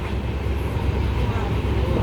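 A passenger train runs through hilly country on the approach to Nagercoil, heard from inside the carriage as a steady, loud rumble with continuous wheel and track noise and no clear breaks.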